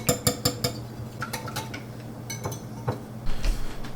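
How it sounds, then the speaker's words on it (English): A cinnamon and vanilla mixture being whisked in a bowl, giving a quick burst of sharp metallic clinks at first, then scattered taps and scraping, ending in a louder rustling scrape. "Now you're going to want to just whisk it."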